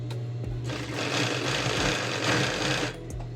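A sewing machine stitches a 1 cm seam on a women's blouse, with a close, steady whirring run lasting about two seconds between quieter moments.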